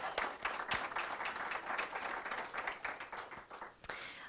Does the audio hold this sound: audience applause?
yes